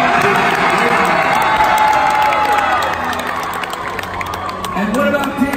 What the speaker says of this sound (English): so you can cheer for them